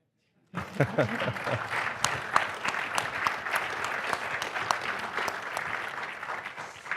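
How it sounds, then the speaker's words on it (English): An audience at a tech conference session breaks into applause after a brief silence, steady clapping from many hands continuing at moderate volume. "This is the part where you clap."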